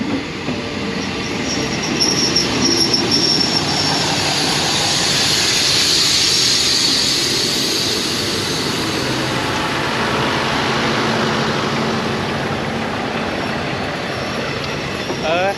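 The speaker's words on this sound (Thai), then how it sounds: "เห็นรถไฟอยู่ไทยครั้งแรก" A passenger train rolling past in Thailand, a long, loud, steady rumble of wheels on rails with faint squeals, swelling and easing over many seconds without a break.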